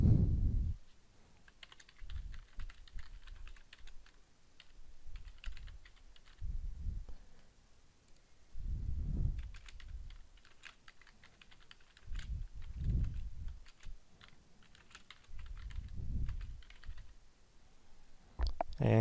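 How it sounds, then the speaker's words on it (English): Fingers tap a computer keyboard in soft, uneven bursts of light clicks, close up and fairly quiet, with low thumps and brief pauses between runs of keystrokes. "let's type some text for the overlay"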